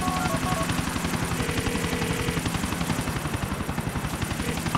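Helicopter flying in GTA: The Ballad of Gay Tony, a steady rapid rotor chop with a continuous engine whine, loud and close throughout with no talk over it.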